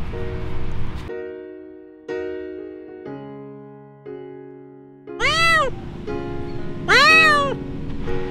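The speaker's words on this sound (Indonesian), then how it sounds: "Itu suara kucing" A cat meows twice, each call loud, close and rising then falling in pitch. The meows come over a backdrop of sustained tonal chords that shift in steps.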